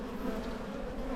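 Honey bees at an open backyard hive, a colony that has re-queened, give a steady, dense buzz close by, with no pauses.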